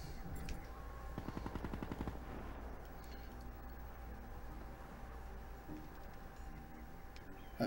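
Rapid automatic gunfire from a weapon fired from the hip in the shooter game HLX4, a quick rattling burst of shots up front followed by steady game ambience, with no one talking.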